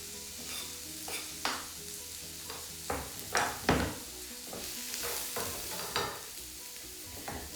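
Onion and garlic frying with crispy beef bits in a pan, a soft continuous sizzle broken by several sharp scraping stirs and clacks of the utensil, fairly quiet and close.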